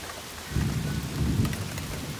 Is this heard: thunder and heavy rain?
yes